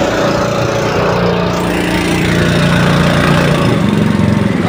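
A small motor engine runs loudly and steadily up close at a Petron fuel stop, a constant droning rumble with a slight shift in pitch as it is eased down before shutoff.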